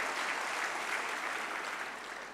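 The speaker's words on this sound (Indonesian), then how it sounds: "tepuk tangan dong buat 1 putaran, sekali" Studio audience at a political talk show clapping in a sustained, even burst of applause that fades slightly toward the end.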